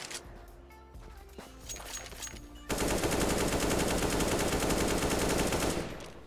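Sustained automatic rifle fire into a wall in a Faceit match of a first-person shooter, beginning after quieter game noise and rattling on loud and dense for about three seconds before cutting off, with no talking.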